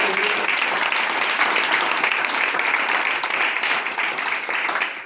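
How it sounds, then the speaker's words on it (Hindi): Audience at a motivational meeting in Mohan Road, Lucknow bursts into sustained, dense applause, many hands clapping loudly and evenly throughout before it starts to taper at the end. "जबरदस्त तालियां चाहेंगे।"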